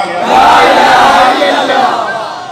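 A rally crowd roars a chanted slogan response in unison, a loud massed shout that swells quickly, holds for about two seconds and then fades.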